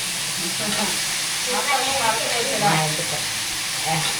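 Steady sizzling and steam hiss from a hot pan as potato, eggplant and drumstick pieces go into softened onions for a tomato-free vegetable curry, a constant close frying noise with faint clinks and no clear talk.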